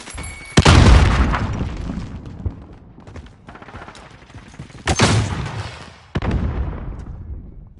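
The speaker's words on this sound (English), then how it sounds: "Throwing grenade!" Grenades explode in a first-person shooter video game, three loud, booming blasts with rumbling tails: one early, then two more close together near the end, with quieter battle noise between them.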